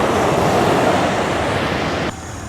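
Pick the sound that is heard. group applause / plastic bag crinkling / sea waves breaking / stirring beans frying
sea waves breaking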